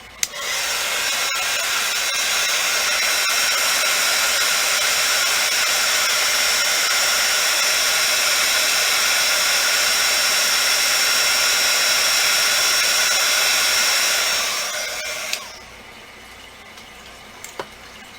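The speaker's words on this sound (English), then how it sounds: "now, I always let the heat gun heat up away from the surface I'm embossing" A heat gun warming up for embossing powder blows a loud, steady high-pitched whoosh for about fifteen seconds before shutting off and winding down, followed by a couple of small clicks.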